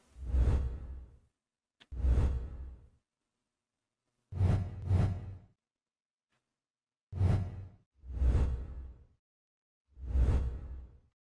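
A series of six airy whoosh effects for fast-moving objects sweep past, each a short swelling swish separated by silence, clean and close.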